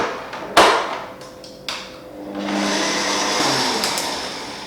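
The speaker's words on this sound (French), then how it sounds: "on mélange au batteur" An electric hand mixer beats icing made with egg white for Harry Potter Christmas biscuits, a steady whirring drone that rises and holds over several seconds after a few clicks and knocks, near and fairly loud with no talk.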